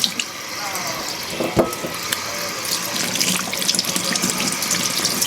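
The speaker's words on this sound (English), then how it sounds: "We are going to wash our tomatoes." Tomatoes are washed under a running kitchen tap: a steady rush and splash of water into the sink, with shifting gurgles and a brief knock as the fruit is handled.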